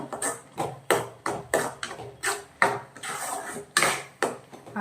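A spoon scrapes and knocks around a metal pot while stirring masala, in quick rhythmic strokes, close and fairly loud, with no talking.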